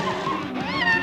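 A single drawn-out cat meow from a film trailer, close and clear, rising in pitch toward the end.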